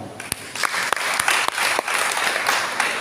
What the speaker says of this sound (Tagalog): Palakpakan itong Ginoo.